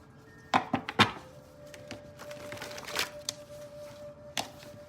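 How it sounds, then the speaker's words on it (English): A deck of tarot cards is shuffled by hand. A few sharp riffles and snaps come at the start, then softer shuffling and a couple of later taps, close and fairly quiet, with no talking. "Let me shuffle these a little bit more, you guys."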